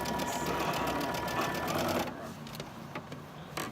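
A sewing machine stitches orange fabric for Halloween quilt sashing, a steady rapid whirring hum for about two seconds, then it stops and leaves a few faint clicks and handling sounds.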